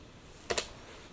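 Two quick clicks of computer keyboard keys close together near the middle of a short, quiet stretch, a number being typed and Enter pressed while setting keyframe values in DaVinci Resolve 16.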